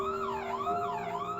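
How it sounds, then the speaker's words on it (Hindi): A police car siren wails in rising and falling sweeps, loud and steady, with no one speaking, as in an audio drama. "वो देखती है कि पुलिस की गाड़ी उसी तरफ आ रही है"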